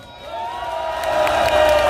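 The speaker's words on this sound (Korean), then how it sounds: "박수 한번" Crowd applause and cheering at an outdoor rally at Gwanghwamun in Seoul, a broad wash of clapping swelling louder over two seconds with a sustained voice or tone above it.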